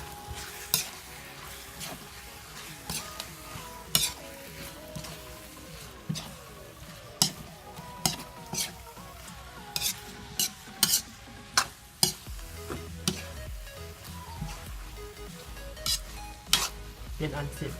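Glass noodles and egg being stir-fried in a pan: a utensil scrapes and clanks against the pan at a fairly regular rhythm over a steady sizzle, with no clear talking.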